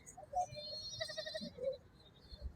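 A goat bleats at a livestock market, with short nasal cries near the microphone against faint background market noise.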